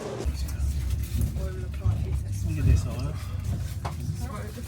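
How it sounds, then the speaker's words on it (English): Steady low engine rumble and road noise from inside a moving bus, continuous and fairly loud throughout with some faint cabin clatter and no clear talk. "So as you can see, we're on the bus now"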